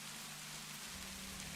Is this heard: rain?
yes